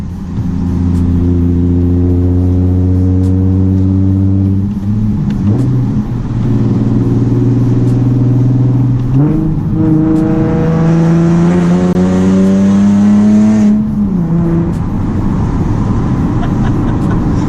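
A Nissan 370Z NISMO with a Tomei aftermarket exhaust drones steadily with a deep exhaust hum while cruising at 40, its pitch rising and falling as it shifts, heard loud from inside the car.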